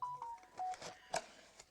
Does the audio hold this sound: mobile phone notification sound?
yes